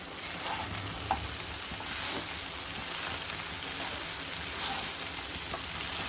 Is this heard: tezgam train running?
no